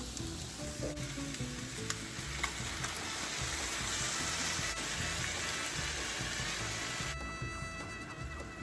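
Tomato sauce for chicken tinga being strained in a kitchen, with a steady close sizzling, wet rushing texture throughout and faint clinks, no talking.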